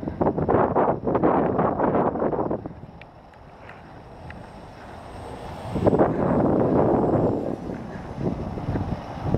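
Wind gusts buffet the microphone outdoors while a Park Zone Spitfire RC plane flies. The rush is loud and roaring at the start, drops away for a few seconds, then surges again. A faint high motor whine runs along behind it.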